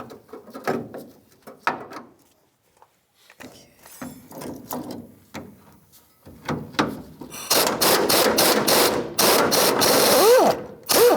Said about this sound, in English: I'm putting the wrench on the frame this way so that I can actually lock it in